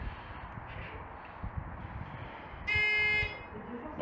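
A motion-triggered device beeps once in a steady, high electronic tone lasting about half a second, over a quiet background with faint room noise.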